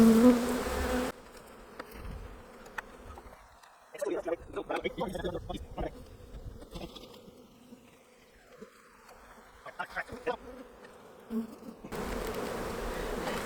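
Honeybees buzz around an open hive being split during a walk-away split, a dense droning hum throughout with a louder swell of buzzing in the middle, while a person talks over it.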